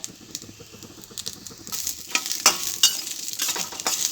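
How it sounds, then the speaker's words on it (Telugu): Ingredients for coconut chutney frying in a little oil, a soft sizzle that builds into sharper crackles and spatters as they are stirred, close by with no speech. "వీటిని మంచిగా నూనెలో కొంచెం వేపుకుంటే సరిపోతుంది"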